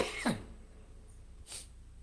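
A man preaching at a church service coughs and clears his throat in two short, close bursts about a second apart, with quiet room tone between them.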